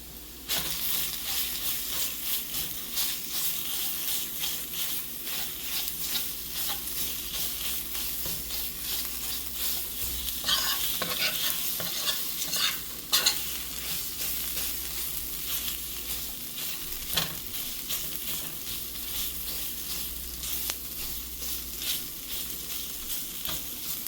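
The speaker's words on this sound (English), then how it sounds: "going to saute the flour with it maybe like 2 minutes" Flour and tomato paste sauté in a pan for a cabbage-roll sauce, giving a steady, close, continuous sizzle with soft scraping and stirring throughout.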